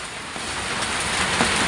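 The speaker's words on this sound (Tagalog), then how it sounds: "Bakit pag humangin, niliparin yung mga ulan, niliparin yung ulan." Wind-driven rain gusting in a steady broadband wash, swelling slightly in brief surges, close and moderately loud with no voices.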